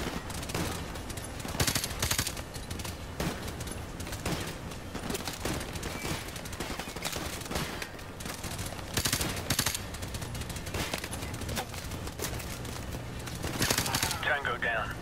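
Sustained automatic gunfire from Call of Duty: Modern Warfare Remastered, dense rapid bursts throughout fifteen seconds, loud and continuous, with someone speaking over parts of it.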